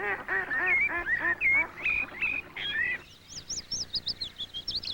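Waterfowl at an English village duck pond call in a busy run of honking quacks for about three seconds, then give way to thinner, higher chirping and twittering birdsong, all fairly close and with no talk.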